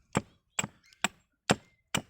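An axe chopping mulga wood, five sharp, evenly spaced woody strikes about half a second apart, close and clear with no talk.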